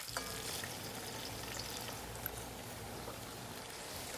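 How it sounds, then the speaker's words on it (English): Water pours into a hot pot holding seared chuck roast and browned onions, a continuous sizzling hiss and gentle splashing that stays fairly quiet and steady throughout. "Then we add some water"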